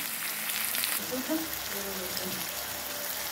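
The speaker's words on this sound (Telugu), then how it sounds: "తాలింపు గింజలు వేసుకొని ఉల్లిపాయలు వేసుకున్నాను" Soft sizzling of tempering seeds and onions frying in oil for ridge gourd curry, with a few scraping and clinking kitchen sounds over the low hiss.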